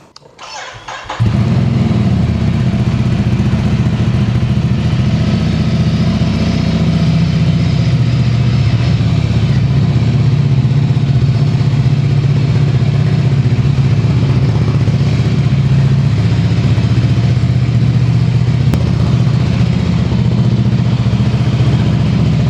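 A Ducati Scrambler motorcycle engine starts with a short crank, then settles into a loud, steady idle that rumbles close by and runs unbroken to the end.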